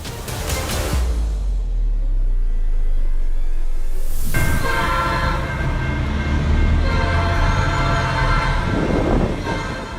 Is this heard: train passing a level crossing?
yes